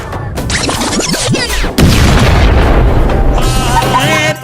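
Firecracker bombs go off in a school classroom: a loud burst lands mid-clip and is followed by a sustained, crackling roar, with chatter and shouting faintly before it.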